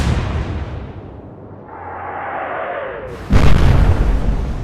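Warship guns fire in the naval video game Atlantic Fleet, with a long rumbling boom trailing off and then a second heavy blast near the end, loud and close, with no voices.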